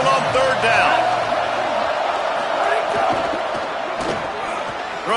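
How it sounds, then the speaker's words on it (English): A home crowd roars in a college football video game as the defense faces third down, with a loud sustained crowd swell under a commentator's talk that eases slightly toward the end. "Here comes this home crowd as the defense tries to get off the field on third down."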